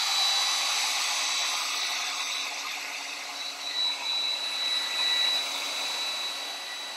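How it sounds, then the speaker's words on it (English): A hair dryer blows steadily on paper treated with ammonia in a Windex secret-message demonstration, a continuous close airy whir with a faint motor whine, alone and without talk. "if I take a hairdryer to this ammonia"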